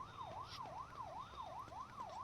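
Video-game police car siren wails in a steady, rhythmic rising-and-falling pattern, about two cycles per second, repeating evenly throughout at moderate volume over a faint engine hum.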